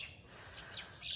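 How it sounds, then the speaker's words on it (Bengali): A few faint bird chirps ring out in the early morning near a rooftop poultry coop, brief high tweets over quiet background. "কত সুন্দর পাখির কিচিরমিচির শব্দ"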